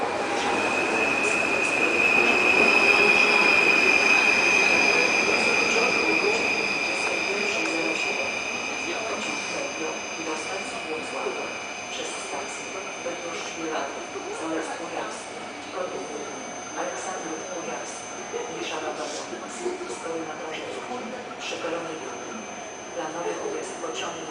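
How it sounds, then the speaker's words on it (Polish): An Intercity passenger train, the 5700 Bałtyk, rumbles past at night in Bydgoszcz, Poland, with a high metallic wheel squeal at first, then fades into a long rolling clatter as it moves away. "pociąg Intercity 5700 Bałtyk ginie w ciemnościach z sygnałami końca pociągu PC5"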